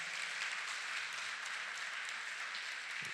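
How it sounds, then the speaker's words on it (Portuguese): A church congregation applauds its visitors during a Sunday service, a steady wash of clapping that holds at an even level throughout without anyone speaking. "uma salva de palmas para os nossos visitantes"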